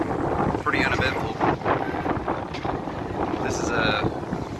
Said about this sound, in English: This is a pretty good sail. We have 15 knots of wind.